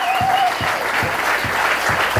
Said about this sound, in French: Applaudissons fort le Seigneur Jésus.